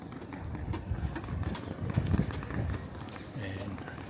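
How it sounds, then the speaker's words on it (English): Horse hooves clip-clop on pavement as a horse and buggy passes in Seville near the Real Alcazar, a steady rhythmic clatter amid street bustle and distant voices. "you can ride horse and buggy here"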